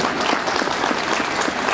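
An audience applauds warmly for a newly introduced vice-president at a presentation event, a dense, even burst of many hands clapping close and loud throughout.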